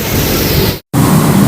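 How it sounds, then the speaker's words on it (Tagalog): Heavy tropical rain with lightning pours down on a trip home, a dense, loud, steady roar close around the listener, broken by one brief cut to silence midway. "talagang malakas na ulan, no?"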